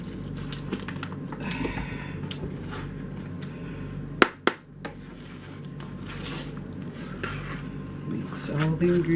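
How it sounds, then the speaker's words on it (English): Meatloaf ingredients, including egg and water, are squished and stirred by hand in a bowl, a steady wet mixing sound with a couple of sharp knocks partway through. "Mix all the ingredients up like so."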